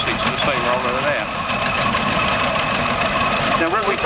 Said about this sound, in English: they've fitted a 2-cylinder McLaren diesel engine on top of the boiler